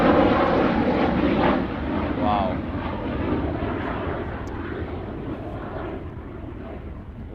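A propeller airplane flies over a training airfield, a loud droning engine roar that slowly fades as it passes, while one voice briefly exclaims.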